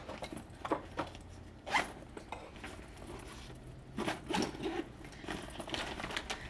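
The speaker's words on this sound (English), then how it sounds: "So this front part here zips" The zipper on the front compartment of a travel tote bag opens in several quick, raspy pulls with short pauses between them, close and clear with no talking.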